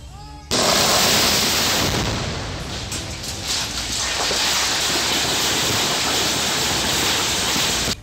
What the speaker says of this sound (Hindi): गलत तरीके से चट्टान को तोड़ने की कोशिश की गई और फिर जोरदार धमाका हो गया।